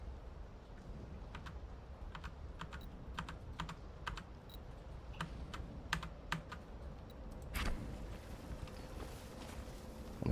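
Computer keyboard keys pressed during play of the role-playing game Battle Chasers: Nightwar, heard as scattered sharp taps and short bursts of typing over a steady game background hum, closer and busier near the end.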